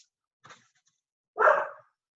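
A dog gives a faint short whimper, then a single louder bark after a pause, heard close by against silence with no speech.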